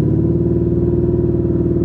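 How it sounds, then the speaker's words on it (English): A Lamborghini Urus engine held at steady high revs on launch control at a test track, a loud, close, constant droning rumble with no voices. "Power, torque, launch control activated right there."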